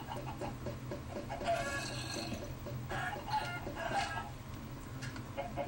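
Minecraft chickens clucking in a blocky game world, several short bursts of clucks repeating over a constant low background hum, with faint talk underneath.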